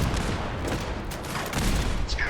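Cannons fire in a naval battle in the game Fallout 4 Horizon, a dense, loud rumble of overlapping blasts with crackling bursts throughout.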